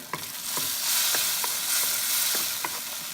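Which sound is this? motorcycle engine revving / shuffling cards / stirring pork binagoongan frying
stirring pork binagoongan frying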